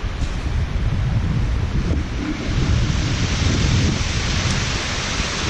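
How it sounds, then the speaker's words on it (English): Strong storm wind roars outdoors around a house and parked trucks, a loud, continuous buffeting rush that batters the microphone throughout. "You can hear the wind."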